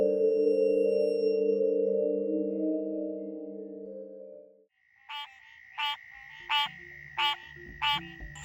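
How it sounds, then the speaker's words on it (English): Male green tree frogs call in a steady run of sharp, rhythmic croaks, about one per second, loud and close, following a sustained low tonal hum that fades out. "That is the sound of countless tree frogs calling"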